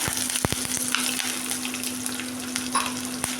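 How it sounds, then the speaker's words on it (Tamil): Mustard seeds and a chopped large onion frying in hot oil, a dense close crackle and sizzle with sharp pops and a few stirring knocks, no voices. "அதுக்கு பாருங்கள் எண்ணெய் ஊற்றியாச்சு, கடுகு போட்டாச்சு, பெரிய வெங்காயம் ஒன்று போட்டாச்சுங்க"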